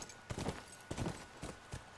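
A horse's hooves clip-clop on hard ground in The Last of Us, a soft, fairly distant and steady walking rhythm of about five muffled strikes.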